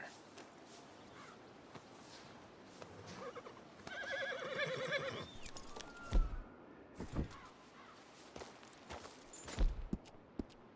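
A horse whinnies in the middle, with scattered hoof thuds and clatter around it over a steady background ambience, from the video game Red Dead Redemption 2.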